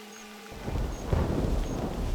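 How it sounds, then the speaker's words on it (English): Thunderstorm with rain in the hunting game theHunter: Classic: after a brief quiet tone, a deep rolling rumble of thunder swells under a dense, steady hiss of rain, loud and enveloping, with no voices. "Ooh, we actually got a thunderstorm."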